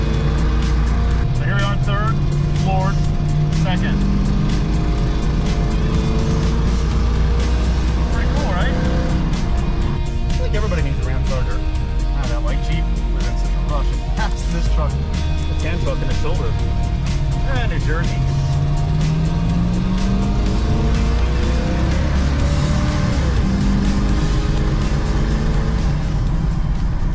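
A Ramcharger's 383 engine with open headers and a Flowmaster two-chamber exhaust, revving in a field with a steady loud rumble and rising, falling throttle sweeps throughout, with a voice talking over it.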